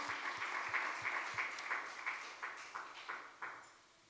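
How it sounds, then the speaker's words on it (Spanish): A church congregation applauds, with scattered claps that start dense and thin out into a few sharper individual claps, somewhat distant and moderately quiet in a reverberant room. "¿Cuántos pueden dar un aplauso al Señor?"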